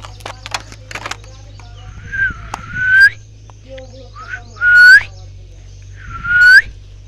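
A pet parrot gives several loud rising whistles and calls in the morning, three drawn-out whistles standing out clearly, with some softer chirps and clicks between them over a low steady hum.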